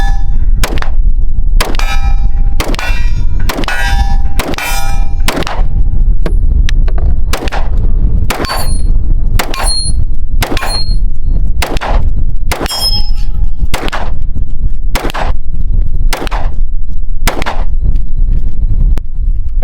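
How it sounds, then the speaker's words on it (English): Pistol shots from a metal-frame handgun fire in a steady series of about sixteen sharp reports, most followed by a ringing clang as bullets strike steel targets at an outdoor range. "let's do a little shooting with it"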